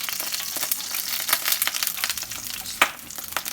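Chopped garlic sautés in hot cooking oil while ginisang monggo with pork is being prepared, giving a steady close crackling sizzle with sharper pops and spits throughout, no talking.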